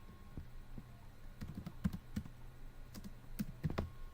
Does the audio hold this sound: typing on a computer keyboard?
yes